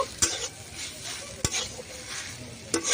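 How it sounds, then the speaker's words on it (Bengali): Grated boiled potato being mixed with beetroot and carrot in a hot pan, a steady sizzle under a few sharp spoon knocks against the metal, close by. "বিট আর গাজরের সাথে আমি আলুটাকে এইভাবে মিশিয়ে নেব"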